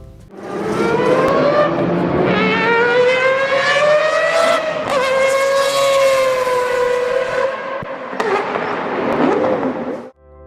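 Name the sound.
four-rotor rotary engine revving at speed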